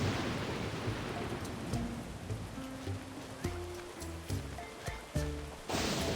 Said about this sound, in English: we got a nasty storm going on